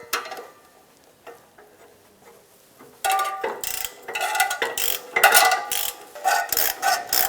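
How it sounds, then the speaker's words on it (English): A socket ratchet on 14mm exhaust manifold bolts of a 2007-2012 Nissan Versa, faint sparse clicks at first, then loud rapid ratcheting bursts in quick repeated strokes. "Using a 14mm socket, we're going to go ahead and loosen and remove the 2 bolts."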